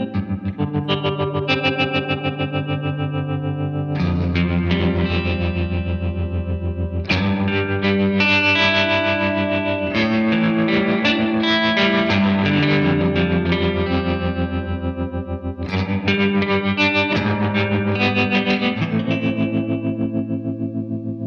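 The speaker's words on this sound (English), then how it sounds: "And now we got a cool kind of tremolo sound." An electric guitar runs through a Beetronics Zzombee Filtremulator pedal set to tremolo, loud strummed chords pulsing with a wavering, distorted, chorus-like texture, sustained phrases broken by short gaps.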